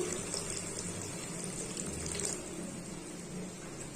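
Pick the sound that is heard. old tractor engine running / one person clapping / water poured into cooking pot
water poured into cooking pot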